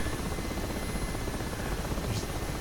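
An Mi-8 helicopter in the DCS flight simulator, heard from inside as a dense, steady rotor and turbine roar filling the whole clip at constant loudness, with no voices.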